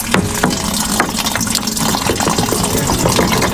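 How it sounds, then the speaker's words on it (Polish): Rainwater from a collection tank trickles weakly out of a tap, a steady, close, splashy flow with faint rattles, heard alone without talk. "widzicie, ledwo co ledwo leci woda"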